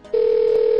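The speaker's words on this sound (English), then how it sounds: "the sound you hear is called a ring-out tone." A telephone ring-out tone starts after a brief click, then holds as a loud, steady single electronic tone, close and uninterrupted.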